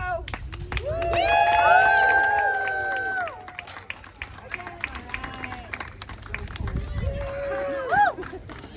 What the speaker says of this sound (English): Little clapping, little cheering.